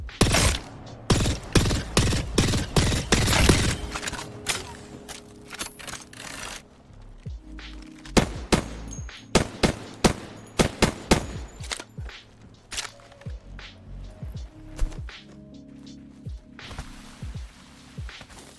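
Gunfire on a new firing range in a video game: rapid bursts of loud, sharp shots in clusters, then sparser single and short volleys with mechanical clicks between, close and dominant.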